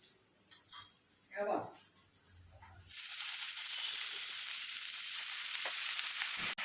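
Chopped spring onion greens sizzle and hiss in a hot pan, a steady loud frying after a brief stir-like clatter at the start, continuing unbroken to the end.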